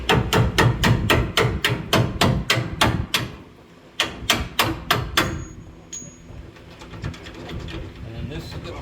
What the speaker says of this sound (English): now I should be able to just tap that bolt out